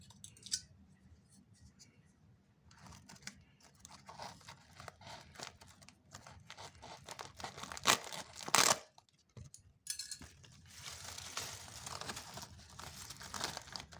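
Fern root torn upward by hand, heard as close, soft crinkling, tearing and scraping bursts with brief snaps, rising in loudness toward the middle and continuing in rustly spurts, no talking.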